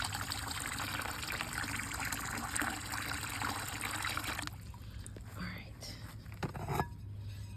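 Water poured from a hose or container into a buried clay garden olla, a steady trickling stream for about four seconds before it stops abruptly, followed by faint handling sounds.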